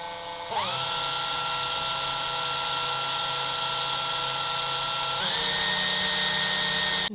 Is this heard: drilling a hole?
yes